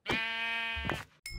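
A Minecraft sheep gives one long, clear, nasal bleat, loud and close, followed by a brief cut-off start of another sound.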